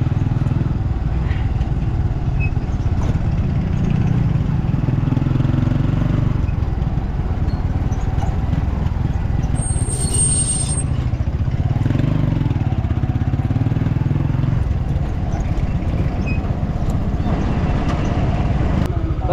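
A motorcycle engine runs steadily and loudly throughout a ride near a market on a hot day, a constant low rumble with faint voices underneath.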